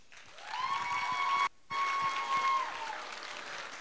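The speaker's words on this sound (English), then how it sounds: "huge round of applause for Lizzie, our MC" An audience at a school Women's History Month assembly applauds for the MC, moderate and somewhat distant, under a sustained tonal hum, with a brief dropout midway before the clapping resumes and fades.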